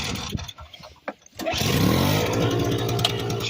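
A key-start snow blower engine cranks over with a few short bursts, then catches at about one and a half seconds and settles into a loud, steady running drone close by, puffing a little smoke.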